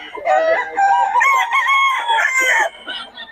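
A gamefowl rooster of the Golden Boy Setter bloodline crows loudly and close by, one long drawn-out call with wavering pitch, followed by a brief trailing cluck.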